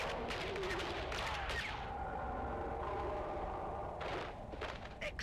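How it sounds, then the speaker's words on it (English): Gunshot bringing down a Salusan tiger while hunting in the Dune Awakening video game: a few sharp, booming reports in the first seconds over a steady game soundscape with sustained musical tones. "Excellent shot! The beast is down!"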